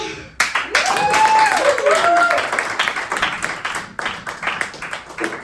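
Comedy-club audience clapping, dense and loud, breaking out suddenly and sustained across the stretch with whoops and cheering voices mixed in.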